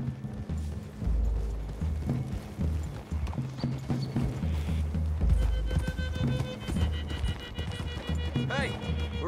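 Horses clip-clop through trees in the Red Dead Redemption 2 video game, steady hoofbeats close by with occasional whinnies, mixed under game music and ambient sound throughout.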